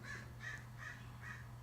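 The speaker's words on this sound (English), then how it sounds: "Can you hear those crows? They are really having a hootenanny out there." Crows caw outside, four hoarse evenly spaced calls at a distance, faint over a low steady hum.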